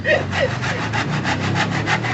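A hand saw cuts through wood while a drafting table is built, with steady, rapid back-and-forth rasping strokes, loud and close, running without pause.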